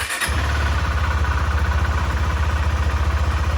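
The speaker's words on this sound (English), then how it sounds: "Now, if I try to start the bike, it'll start" A 2023 KTM 390 Adventure motorcycle with a stalling fault starts up, settling at once into a loud, steady, close idle with a rapid even pulse and no talking.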